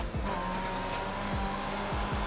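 Race car engine in the video game GRID Autosport on a Monte Carlo street circuit, a steady loud drone with quick upshifts through the gears, no talking over it.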